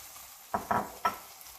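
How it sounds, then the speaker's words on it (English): Chopped vegetables tipped into tomato masala in a pan for veg biryani, three quick close scraping, sizzling bursts over a quiet background. "To this, I'll add all the chopped vegetables."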